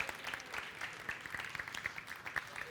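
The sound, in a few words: applause for the chef Rubén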